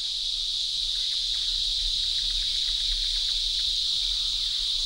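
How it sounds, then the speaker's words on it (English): Cicadas in a forest give a continuous, loud, high-pitched buzzing drone that holds steady without pause, dense and even throughout. "On each tree there may be hundreds of cicadas, and many hundreds of thousands throughout the forest, creating a noise so loud it repels the birds"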